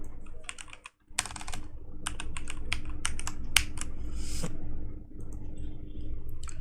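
Fingers type quickly on a computer keyboard, entering text into a search field, a close, crisp run of key clicks with a brief pause partway through.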